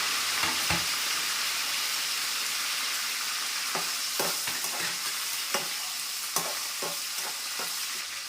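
Curry leaves sizzle in hot oil as a spoon stirs them for a lemon and carrot pulihora tempering, with a steady frying hiss broken by repeated scraping clicks against the pan, close and without talk.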